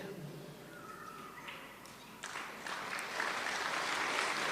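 An audience starts clapping, the applause building from scattered claps into a fuller, steady round that grows louder toward the end over a quiet room.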